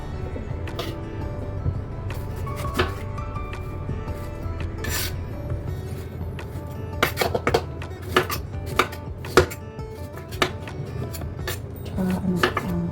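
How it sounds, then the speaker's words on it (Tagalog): A knife cuts through two tomatoes on a cutting board in a home kitchen, with repeated crisp chops and scraping taps that grow sharper and more rapid near the end, with no talking. "Bihiwa tayo ng dalawang piraso ng kamatis."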